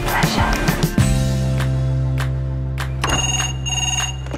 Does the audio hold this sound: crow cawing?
no